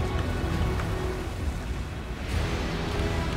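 In the Fortnite Season 2 Chapter 2 final event, a storm roars with dense rain and low rumbling thunder, loud and continuous, with no speech.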